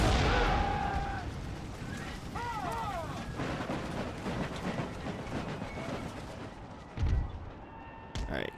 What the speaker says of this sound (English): Let the cannons do some work.